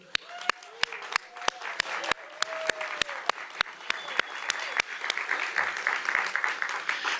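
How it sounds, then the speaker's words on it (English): An arts month kickoff crowd applauds, building from scattered claps into a fuller round, with sharp, evenly spaced nearby claps cutting through and a voice briefly audible underneath. "raise your hand so that we can offer you all applause"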